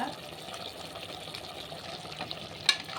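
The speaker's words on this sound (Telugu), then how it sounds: "తెల్లగడ్డ ఆయిల్లో బాగా వేగితే బాగుంటుంది అన్నమాట తెల్లగడ్డ" Crushed garlic frying in oil for a mutton curry hisses in a steady close sizzle. Faint stirring scrapes run through it, with one sharp clink near the end.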